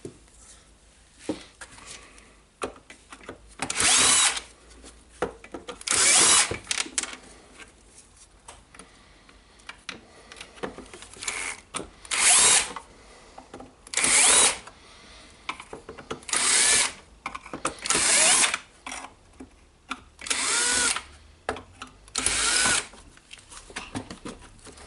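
A power drill backs screws out of an old DeWalt DC011 worksite radio housing, whining in about nine short, loud bursts separated by quiet handling gaps.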